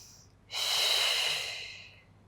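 A single long breath drawn in during an intermediate Pilates mat stretch, a broad airy hiss that swells quickly, holds, then slowly fades, close and clear with no talking.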